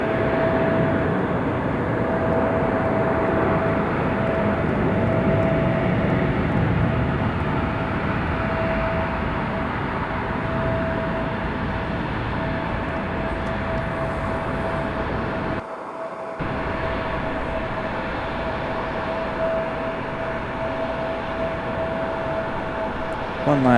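Airplane engines at Raleigh-Durham International Airport, a loud sustained roar with a steady tonal whine that holds throughout, briefly cutting out once before resuming.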